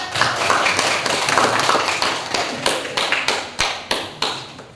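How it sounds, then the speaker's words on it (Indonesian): Schoolchildren in a classroom clap for group 1, a brisk clatter of hands that thins into a handful of sharp, evenly spaced final claps. "beri tepuk tangan untuk kelompok 1"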